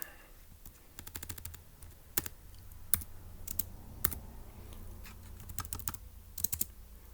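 Quiet, irregular keystrokes tap on a computer keyboard, some in quick bursts and others spaced apart, close and alone in a still room.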